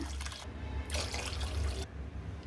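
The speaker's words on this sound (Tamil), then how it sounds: "அரைச்சி வச்சுருக்கிற விழுதை ஒரு கடாயில் சேர்த்து இப்போ 2 டம்ளர் தண்ணி சேர்த்துக்கிறேங்க" Two tumblers of water pour into a kadai of ground paste for gooseberry rasam in two short bursts, a soft splashing gush close by with quiet pauses.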